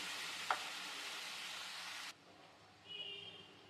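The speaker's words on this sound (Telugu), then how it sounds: "ఇప్పుడు ఇదే బాండీలో చింతపండు పులుసుని ఉడికించుకుందాము" Tamarind juice cooking in a pan, a steady loud broadband sizzle that suddenly drops off, followed by quieter simmering with a faint high hiss, close up and with no talking.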